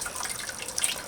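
Water draining from one bucket into another while making fire bricks, a steady close splashing trickle with light dripping that continues evenly throughout.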